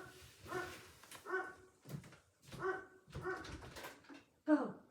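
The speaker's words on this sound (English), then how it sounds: "Isn't it funny how you get to know your dog's barks and what they mean?" A pet dog barks in a short series of sharp, repeated barks spread across several seconds, moderately near, with a louder yelp at the end and some whimpering tones between.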